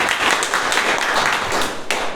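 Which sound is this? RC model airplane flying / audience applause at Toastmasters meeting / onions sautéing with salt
audience applause at Toastmasters meeting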